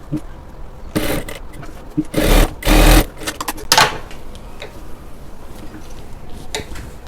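A sewing machine stitches a kurti fabric in a few short bursts of whirring, loudest between about two and four seconds, with quieter handling noise between runs.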